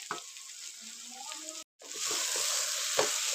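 Goat meat and whole spices fry in a pot with a dense, steady sizzle. It is broken by a brief dropout, then returns even fuller, with occasional stirring scrapes close by.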